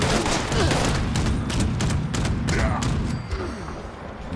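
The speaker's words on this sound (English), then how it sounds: "this definitely puts the bullets out quite rapidly for a Gatling gun" Furious Gatling gun from Fallout 76 firing in a rapid sustained burst, a dense rattling stream of shots with deep low thuds that tapers near the end, loud and close.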